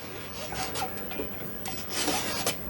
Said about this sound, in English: I'm going to use my multi-tool to do it.